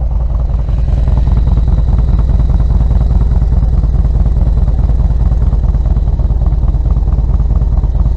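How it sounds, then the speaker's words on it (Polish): A motorcycle engine idles steadily right after starting, a loud, close, continuous mechanical drone with a fast clattering pulse that holds evenly throughout. "Zapalamy, Motocykl pracuje."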